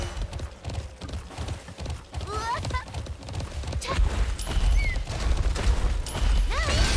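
Galloping horses in the online horse racing game Alicia Online: a steady, busy patter of hoofbeats runs throughout under a dense mix of game sounds, with brief whistling, whinny-like cries rising here and there.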